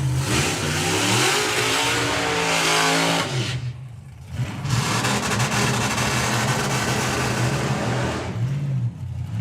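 Supercharged outlaw drag racing cars launch at a drag strip, loud roaring engines revving hard and sustained, with a brief dip before another blast of engine noise pulls away.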